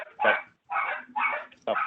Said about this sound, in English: Okay, who's got the dog?